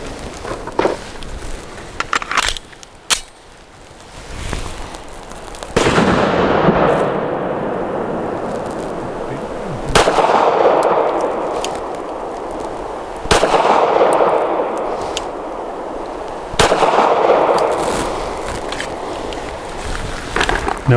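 A Stoeger STR-9C pistol fires Remington HTP 147-grain jacketed hollow points outdoors, sharp single reports spaced several seconds apart, loud and close, with rumbling noise hanging between shots.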